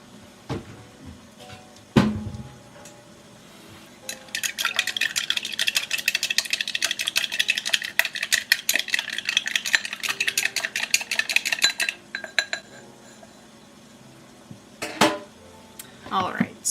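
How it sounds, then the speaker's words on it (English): A raw egg is whisked in a bowl in a home kitchen, a fast, continuous clicking and scraping of the whisk lasting several seconds, framed by a few louder knocks and bumps before and after. "I've got an egg that I'm going to crack and whisk first."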